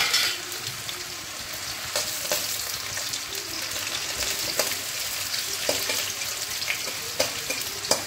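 Cashew nuts frying in a pan, a steady bright sizzle with scattered pops and stirring scrapes, close and continuous.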